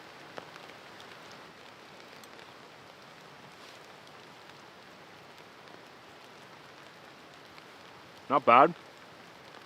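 Steady rain falls at a campsite at night, a soft continuous hiss of drops on surfaces throughout, with a brief burst of nearby speech near the end.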